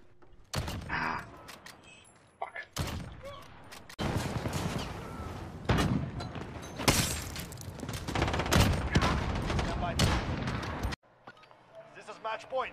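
A shotgun loaded with slug rounds fires in a video game, loud repeated blasts mixed with mechanical clatter, overlapping a person talking excitedly.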